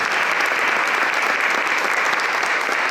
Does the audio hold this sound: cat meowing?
no